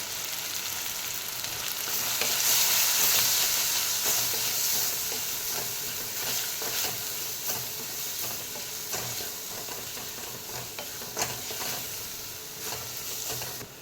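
Coriander powder, garam masala and red chili powder fry in a pan for a homemade mushroom curry, giving a continuous bright sizzle with intermittent scraping stir clicks, close and alone.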